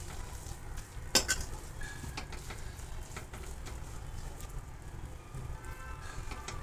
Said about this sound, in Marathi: मी आता व्यवस्थित याला परतून घेत आहे.